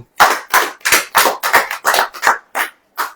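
A congregation at a church service claps in unison, about ten sharp, evenly spaced claps in a steady rhythm with no talking between them.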